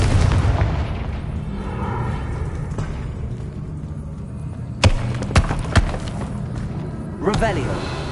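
Explosive booms from the Confringo spell in Hogwarts Legacy rumble amid game sound, followed by several sharp cracks and a final burst, with a voice heard over them.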